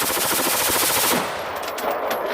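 Rifle with a UTG Pro Model 4/15 15-inch super slim keymod rail fired rapidly to heat the barrel, a fast dense string of loud close shots that stops abruptly partway through, leaving a ringing tail.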